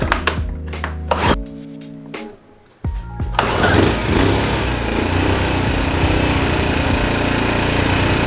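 An Instant Power portable suitcase inverter petrol generator, a 4-stroke 2.6HP 800W unit, is started with a few knocks and sputters, then settles into a loud, steady, close engine running sound.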